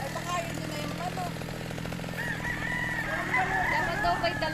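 A rooster crows on a game farm, a loud drawn-out cock-a-doodle-doo close by, heard over steady outdoor background noise and some mechanical rumble.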